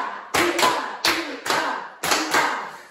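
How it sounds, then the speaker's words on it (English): Children stomp and clap together on each syllable of a chant in a song, giving three sharp, loud double hits of a thudding stomp followed by a clap, evenly spaced, with no voices in between. "when you hear the ooh ah, you're going to stomp and clap on each syllable"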